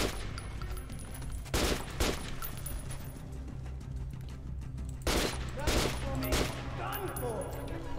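Gunfire in the video game Metro, with sharp repeated shots crackling in bursts over a steady rumbling background, two heavier volleys standing out, and a voice speaking briefly.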